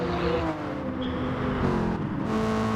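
Mustang race car engine held at full throttle through a slide and spin in an exhibition race, a loud continuous high-revving roar with shifting harmonic pitch, steady and close throughout.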